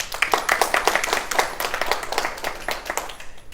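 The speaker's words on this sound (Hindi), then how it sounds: "एक ताली हो जाए" Brief round of hand clapping from an audience honoring Dr. Lim, a dense, lively patter of claps close by that thins out toward the end, with no talking.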